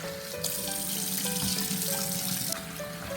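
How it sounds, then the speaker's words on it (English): Steady running water splashing into a sink, with wet slapping and swishing as fish is rinsed and moved around, continuous and close. "This is the last time I'm washing this."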